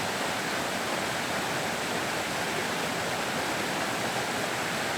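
A mountain torrent in the Hautes-Alpes of France rushes steadily close by, a dense, unbroken roar of water with no voices.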